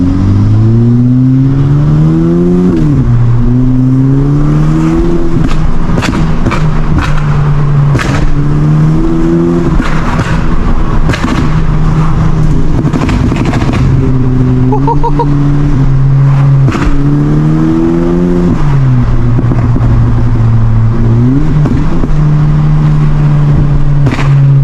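A tuned Golf GTI with a pops-and-bangs map drives along a dual carriageway, its engine droning steadily and rising and falling through gear changes, with sharp crackling bursts from the exhaust breaking out in clusters.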